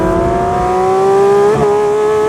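A Porsche 911 S/T's 4-litre flat-six with a 9,000 rpm redline revs loud and close, its steady rising whine climbing in pitch with a brief dip and recovery partway through, alone without talk.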